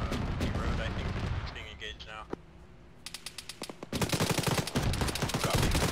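Heavy .50 cal machine gun fire in the military game Arma 3, loud rapid bursts that stop and start across the stretch, with radio chatter and voices mixed underneath.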